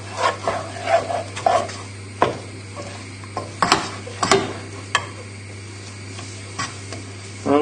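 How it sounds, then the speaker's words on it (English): Butter being stirred into a sauce in a pan for a rocket and parmesan layered steak dish: repeated close scraping and clinking strokes with a faint sizzle under a steady low hum, no talk. "Just stir in the butter, and then once the butter's all melted, we're going to add in the milk"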